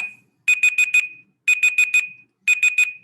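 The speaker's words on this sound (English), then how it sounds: "you kept on talking until the timer rang" A timer alarm beeps in rapid sets of four electronic tones, repeating three times at an even rhythm, loud and close with no talking.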